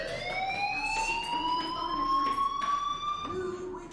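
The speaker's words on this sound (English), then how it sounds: "do you hear that fire alarm? That means you should be outside." A fire alarm rings in the video game Life Is Strange, a loud continuous electronic tone that sweeps slightly, with a voice talking over it.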